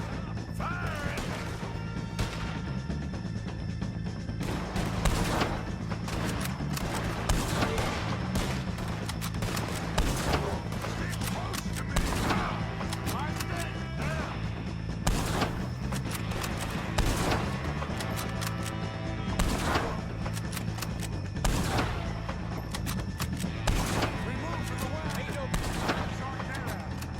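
Rapid, repeated gunfire in Red Dead Redemption 2 cracks out in dense bursts throughout, with shouted voices mixed into the shooting and a steady low rumble underneath.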